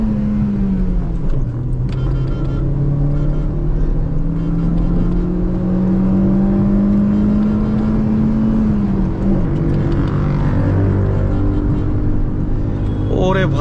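Motorbikes on a road, engines droning and revving with a rising and falling pitch as they speed along, loud and close, with voices talking over them.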